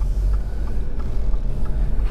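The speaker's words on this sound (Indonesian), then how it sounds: "bunyi ban atau road noise itu kerasa banget masuk dalam kabin" Tire and road noise fills the cabin of a 2023 Subaru BRZ, a steady, loud low rumble with a faint hum and no voices.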